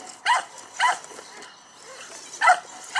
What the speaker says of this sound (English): very much apologize for the dogs barking.